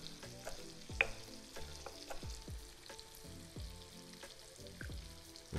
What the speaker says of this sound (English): Move these around again. Now they're starting to crisp up.